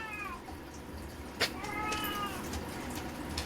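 A cat meows twice nearby, drawn-out wavering cries separated by a brief knock, over faint background noise and without talk.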